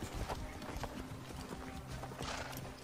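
A horse's hooves clop steadily in an even trotting rhythm, close and continuous, while riding across the world of Assassin's Creed Origins, with faint ambient noise underneath.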